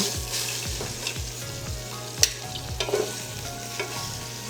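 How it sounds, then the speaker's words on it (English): Veal shanks searing in a pot, a soft continuous sizzle with rhythmic low scraping and a sharp clatter as the meat is turned over, close and without voices. "we're gonna let them brown for about 4 minutes each side, flipping them once"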